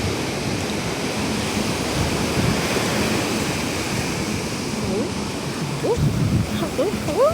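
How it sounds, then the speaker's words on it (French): Ocean surf rolling onto a beach at San Pedro, Côte d'Ivoire, a steady broadband wash with waves breaking close by, with faint voices or bird calls near the end. "les vagues ont failli me mouiller"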